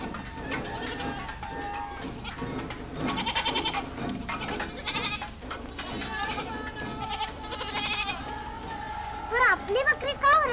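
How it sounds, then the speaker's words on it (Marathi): Goats bleating repeatedly in a rural village setting, their cries mixed with other farm animal calls and background noise, fairly loud and continuous, with a few sharper calls near the end. "पण आपली बकरी का ओरडतात?"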